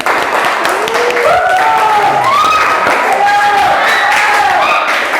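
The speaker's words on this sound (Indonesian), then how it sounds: "Bagus banget, tepuk tangan." Grade 8 junior high classmates applauding together in a classroom, a steady wash of hand claps lasting throughout, with several voices talking and calling out over the clapping.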